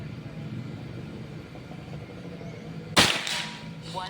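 A single sharp air rifle shot, a Predator Pajero Gun Gen 6, cracks out near the end, preceded by a steady low hum of background noise.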